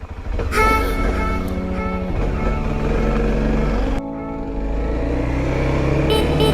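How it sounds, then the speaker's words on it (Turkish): A Kawasaki Z250SL motorcycle accelerates on the road. Its buzzing engine note climbs in pitch, drops back at gear changes around two and four seconds, then rises again, loud and close throughout with no talking. "Bak abi ivmelenmesine bak, bak. Çok iyi gidiyor ya."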